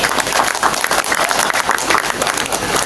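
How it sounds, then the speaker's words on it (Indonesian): An audience bursts into dense, loud applause at an outdoor cultural and religious commemoration in Banyuwangi, Indonesia, the clapping steady and sustained throughout, with faint crowd murmur beneath. "Tepuk tangan."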